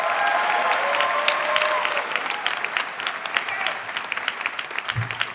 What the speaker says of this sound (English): Give yourselves a round of applause for crying out loud